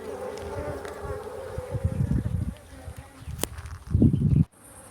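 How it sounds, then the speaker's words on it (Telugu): Honey bees buzz loudly and up close as they crawl into a hive box taken from a tree, coming in uneven swells that rise and fall, with a few faint sounds of handling before they stop abruptly. "ఈగలు వస్తున్నాయి చూడండి బాక్స్లో"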